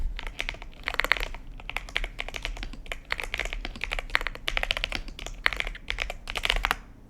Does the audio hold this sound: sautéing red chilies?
no